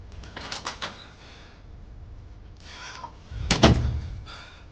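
A door slams shut with a loud, close, heavy thud, preceded by a few sharp knocks and rattles and some quieter shuffling.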